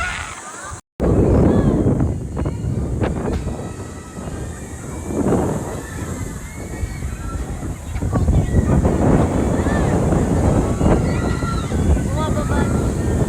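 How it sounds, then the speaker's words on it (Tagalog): Wind buffets the microphone at an elevated outdoor spot at Enchanted Kingdom theme park in the Philippines, loud rumbling gusts rising and falling continuously after a brief dropout at the start. "Ang sarap ng"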